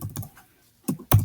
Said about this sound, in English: I'm just going to type in First